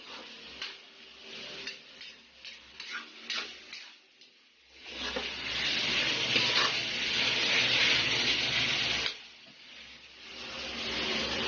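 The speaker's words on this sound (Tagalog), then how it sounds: "Gisa-gisa lang po tayo." Pancit canton ingredients sautéing in a pan, a steady loud sizzle with clinks and scrapes of a utensil against the pan, easing for a moment before the frying noise swells again.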